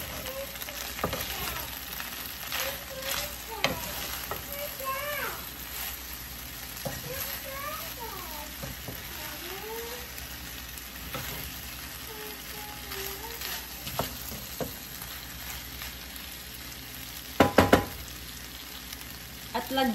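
Chicken stir-fried in a pan gives a steady sizzle with intermittent scraping and stirring clatter, while a voice talks on and off over the cooking.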